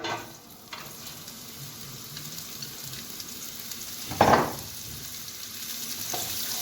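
Onion sizzles in olive oil in a hot pan, a soft, steady frying hiss with a louder burst of sizzling midway as it is stirred, no voices over it.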